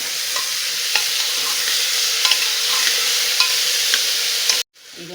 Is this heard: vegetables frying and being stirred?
yes